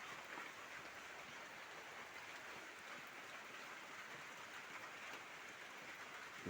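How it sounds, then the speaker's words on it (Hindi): Steady rain falls outdoors during the rainy season, a continuous, even wash of patter without any voices. "बारिश गिर रहा है, बारिश का मौसम है"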